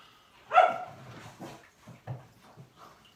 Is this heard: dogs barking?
yes